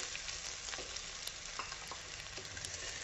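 Onion and flaked cooked fish are stirred in a sizzling frying pan for a fish cutlet mix, with a steady, quiet frying crackle and occasional soft scraping ticks from the spoon.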